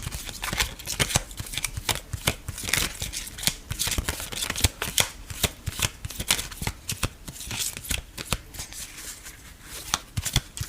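Tarot cards being shuffled by hand, a steady run of crisp riffling and flicking slaps repeating throughout, close and moderately loud with no talking.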